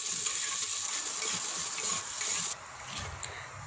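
Onions frying in oil with cumin in a pan over a low to medium flame for a Punjabi-style masoor dish, giving a steady, soft sizzle with faint stirring noises and a slight drop in level partway through.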